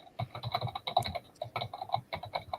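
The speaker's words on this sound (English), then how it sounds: "everyone is waiting to see what Liz is typing" Rapid typing on a computer keyboard, a close, quiet stream of uneven key clicks with brief pauses between bursts.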